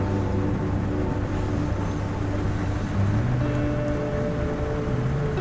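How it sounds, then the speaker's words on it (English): Heavy rain drumming steadily on a truck, a dense continuous wash close by with a low engine-like rumble underneath, no talk. "Can you hear the rain?"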